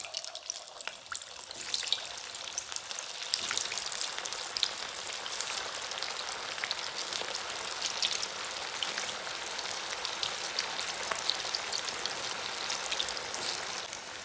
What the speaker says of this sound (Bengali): এবার এই বলগুলো ভাজবো বলে এই পাশে তেল গরম করে নিয়েছি